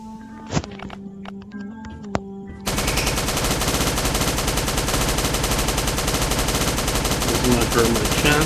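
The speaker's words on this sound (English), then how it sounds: "I think that Uzis are the best weapons for turrets." Uzi-armed turrets in the Last Day on Earth survival game fire in a loud, continuous automatic burst that starts suddenly and holds steady, after a few scattered single shots.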